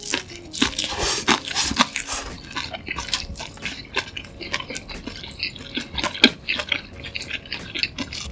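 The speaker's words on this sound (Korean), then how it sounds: "첫 입은 이렇게 통김밥으로 한번 먼저 먹어볼게요" Close, crisp bites and wet chewing of a whole gimbap roll, with crunchy and sticky mouth sounds in an uneven rhythm and no talking.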